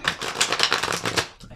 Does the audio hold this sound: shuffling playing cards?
yes